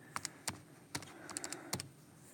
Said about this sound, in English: So I just type that in on my calculator.